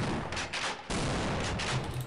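Shotgun blasts in the video game Half-Life, two loud close booming shots separated by a short gap, each with a lingering rumbling tail.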